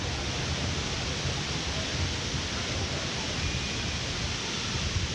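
Steady broadband roar of water from a jungle waterfall big enough to stand under, continuous and fairly loud with no breaks, like rushing falls close by.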